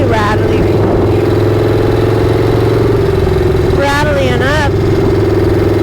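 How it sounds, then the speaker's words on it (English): A motorcycle idles steadily with a light rattly ticking from the lifters, loud and close throughout, with a brief rise in engine pitch partway through. "you might be able to hear it's got a little bit of like lifter noise"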